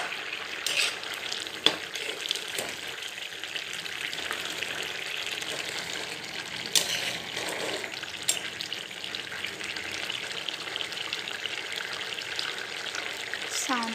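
Food boils and sizzles in a pan in a small home kitchen, giving a steady close hiss and crackle with a few sharper pops, while faint voices come through now and then.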